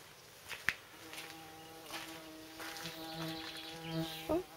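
Bees buzz steadily in a garden with a few harmonic drones rising and falling, close by, with a couple of sharp clicks mixed in.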